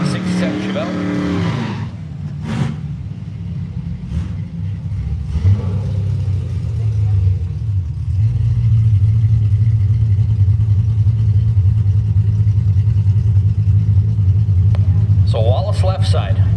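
A blue 1967 Chevelle drag car at Woodburn Dragstrip: a low, steady engine rumble that builds and holds loud, with revving, and a commentator's voice talking over it.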